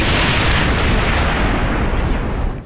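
Explosions in the Xbox 360 video game Ghost Recon Advanced Warfighter 2, a dense continuous rumbling roar of booming blasts that stays loud and near for the whole span, fading slightly at the end, with no talk.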